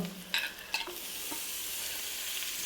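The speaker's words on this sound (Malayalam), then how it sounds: "ഇനി ഇതിനെ വഴറ്റിയെടുക്കണം" Masala of onion, ginger and tomato for a pomfret pollichathu is sautéed in a pan, a spoon scraping and stirring in a few distinct strokes over a steady close sizzle.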